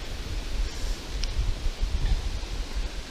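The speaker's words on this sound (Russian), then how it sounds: "очень сильный ветер там" Strong wind buffets the microphone at a fishing shore, a steady low rumbling roar with rustling gusts, close and continuous throughout with no voices.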